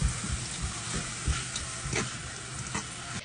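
Strawberries and cranberry sauce cooking in a pan for a honey cake, giving a steady close sizzle and bubbling hiss with soft stirring scrapes and no talk.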